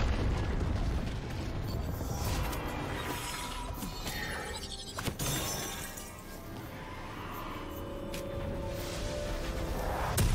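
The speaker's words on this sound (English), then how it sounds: "Red team's turret has been destroyed." A turret being destroyed in League of Legends, during a top-lane Vlad versus Jax match: a loud, sustained crumbling and shattering roar of layered game effects that dips briefly near the middle before swelling again.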